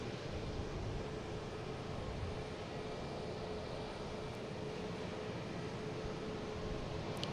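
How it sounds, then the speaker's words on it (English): JetBlue Airbus A220 on its takeoff for Philadelphia from Boston Logan, heard as a faint, steady jet rush with a thin tonal whine running underneath, distant and unbroken. "Next taking off is a JetBlue heading to Philly in A220"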